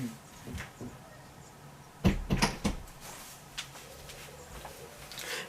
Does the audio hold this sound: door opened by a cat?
yes